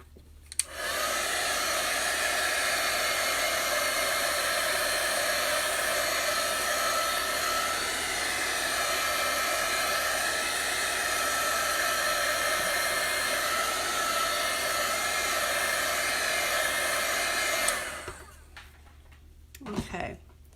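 A handheld hair dryer blows on a freshly applied chalk transfer in a home decor project, giving a loud, steady whir that runs for about seventeen seconds and then clicks off.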